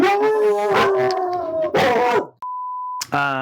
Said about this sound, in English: the dogs went fucking apeshit